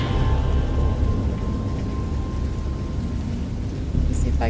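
Heavy rain pours steadily with a low rolling rumble of thunder in the Dagon video game, a dense continuous wash filling the whole stretch with a faint tonal hum and a brief bright sound near the end.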